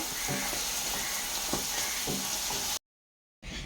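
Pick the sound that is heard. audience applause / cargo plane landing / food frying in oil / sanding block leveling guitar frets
food frying in oil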